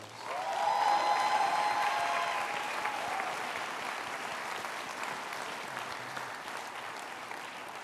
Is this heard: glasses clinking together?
no